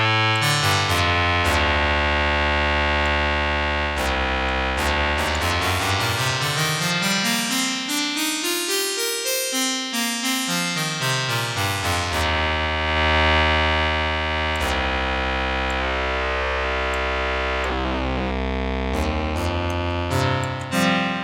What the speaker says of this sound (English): But cross modulation now sounds really cool.